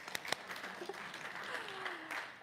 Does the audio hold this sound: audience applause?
yes